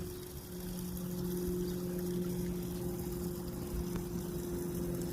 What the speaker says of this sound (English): It's comforting to hear the water.